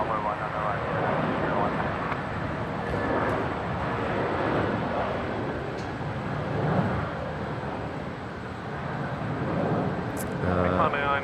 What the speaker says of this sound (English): Jetstar 569 rolling here on 19 left, service to Melbourne